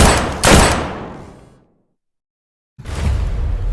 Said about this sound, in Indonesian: Suara tembakan apa itu